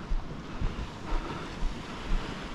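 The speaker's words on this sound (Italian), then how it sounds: "c'è un po' di onda e scogli." Small sea waves wash against rocks in winter off Medulin, Croatia, a soft continuous surf broken by gentle repeated surges, mixed with wind buffeting the microphone.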